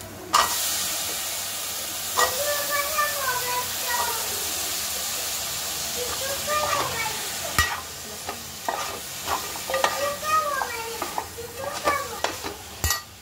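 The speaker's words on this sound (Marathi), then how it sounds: "शेंगा टाकल्यानंतर आपल्याला त्याच्यामध्ये ते शेंगा परतून घेतल्या" Drumsticks sautéed in a pan for a Maharashtrian curry, with a loud continuous sizzle and hiss under repeated scraping and clanking stirs of a utensil against the pan.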